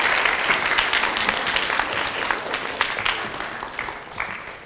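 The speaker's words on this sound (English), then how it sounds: "So please, a nice round of applause for Mr." School audience of students at an assembly applauding for Mr. Abdoo, a dense, steady roar of many hands clapping throughout, fairly loud and without speech.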